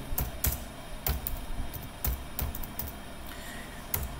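Keys tapped on a computer keyboard while typing in MS Word, quiet and close, in short irregular bursts of sharp clicks with brief pauses between them and no talking.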